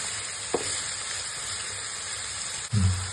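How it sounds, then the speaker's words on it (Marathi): Sliced cabbage fries in a pan with a continuous close sizzle and hiss, interrupted twice by brief scraping stirs, the second louder, with no voices. "आता त्याच्यात कोबी टाकूया, उभी चिरलेली, ती पण परतून घेऊया"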